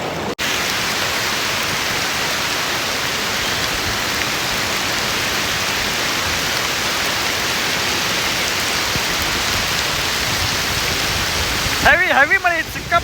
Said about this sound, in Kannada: ಹೆವಿ ಮಳೆ ಐತಿ, ಸಿಕ್ಕಾಪಟ್ಟೆ ಮಳೆ ಐತಿ